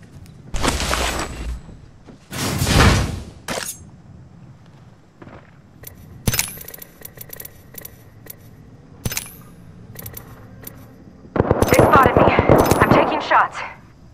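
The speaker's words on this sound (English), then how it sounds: "Opening fire." Gunfire in the shooter game Apex Legends, with loud automatic bursts, several single sharp shots and a dense rapid volley near the end, between quieter stretches.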